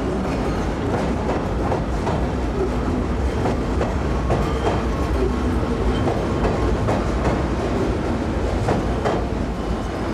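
A train rumbles slowly across an aging bridge at Berlin Ostkreuz, with rhythmic clickety-clack of wheels over rail joints, loud and close, moving at an unhurried pace.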